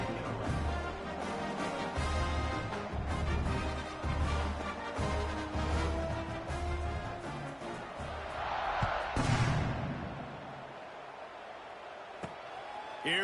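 Stadium crowd in College Football 26 cheering at kickoff, a rhythmic chanting roar with thumping beats, swelling briefly before fading, under a commentator's voice.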